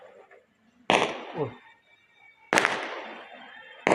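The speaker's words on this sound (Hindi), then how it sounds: "ओह कितने सारे पटाखे" Firecrackers burst at a wedding in three sharp, loud cracks spaced about a second and a half apart, each trailing off in a crackling decay, with a person exclaiming softly between them.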